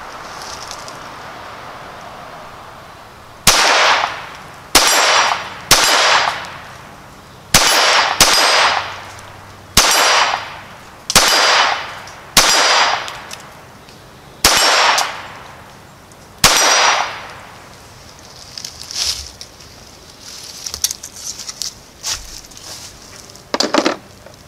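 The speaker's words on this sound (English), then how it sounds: "So let's fire some rounds," A Browning Buck Mark Medallion pistol fires about a dozen sharp shots, each followed by a ringing clang from steel targets. The shots come in an uneven rhythm, close and loud, followed by a few quieter metallic knocks.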